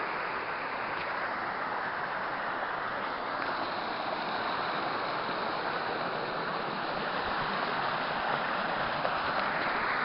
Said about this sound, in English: So now we're climbing up this waterfall here.